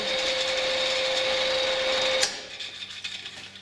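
The rapid-feed pump on the headstock of an IT-16/20 lathe runs with a steady, loud mechanical whine, then cuts off abruptly with a clunk, leaving a quieter rattle as it winds down.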